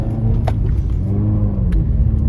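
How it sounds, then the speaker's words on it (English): Manual car engine during a downshift, a loud close low rumble inside the car that shifts slightly in pitch as the clutch is let out, with a couple of faint clicks and no talk. "you just let off your clutch slowly like you're moving, and you just downshifted"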